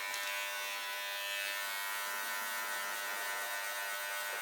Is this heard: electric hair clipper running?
yes